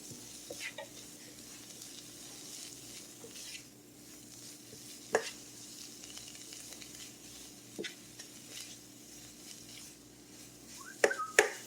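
Green tomatoes sizzling and being stirred in a frying pan, a steady close crackling fry with occasional utensil scrapes and clinks against the pan, no talking.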